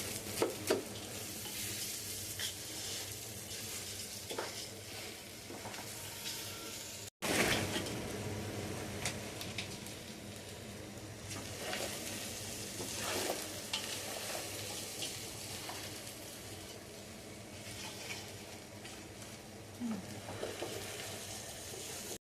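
Rice and lentils stirred and fried in a pot: quiet continuous sizzling with repeated scraping strokes of a spoon, a brief cut partway through, no speech.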